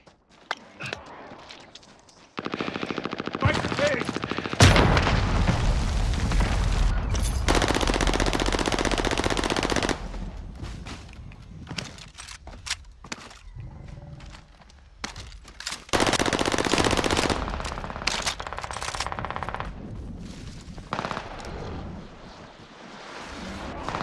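Machine guns fire in long, loud bursts with pauses and scattered single shots during a Kong vs Godzilla video game event.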